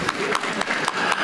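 Conference audience applauds, a brief burst of clapping with distinct sharp claps standing out over a dense patter from the crowd.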